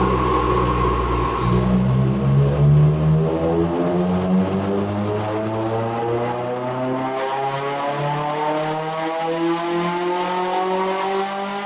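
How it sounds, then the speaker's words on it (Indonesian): Honda VTEC engine revving hard, a loud, close, continuous high-pitched wail with rising harmonics climbing steadily through the revs, alone without talk. "Honda kembali membuat gebrakan besar dengan memperkenalkan teknologi VTEC pada mesin mereka."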